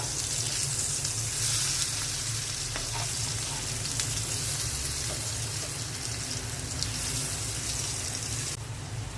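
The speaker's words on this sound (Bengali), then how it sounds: "মিষ্টি কুমড়াগুলো উল্টে দিচ্ছি" Flipped pumpkin pieces keep frying in oil in a pan, a constant loud sizzling hiss with a few light clinks of stirring, steady throughout without voices.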